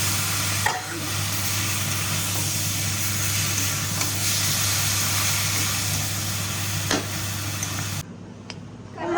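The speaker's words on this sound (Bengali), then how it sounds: "এটাতে চিকেনের মশলাটা কষানো হয়েছে" Chicken masala frying in a pan gives a loud, steady sizzle with a constant low hum beneath, and it cuts off abruptly near the end.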